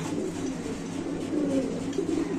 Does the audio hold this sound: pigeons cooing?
yes